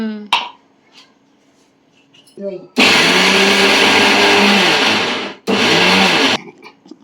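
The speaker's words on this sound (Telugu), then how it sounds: "ఇప్పుడు ఎల్లుల్లిపాయలు కూడా మిక్సీ పట్టేయాలా" A kitchen mixer grinder coarsely grinds garlic in two loud, roaring bursts, one long and one short, separated by a brief pause; a few short vocal sounds come before the grinding starts.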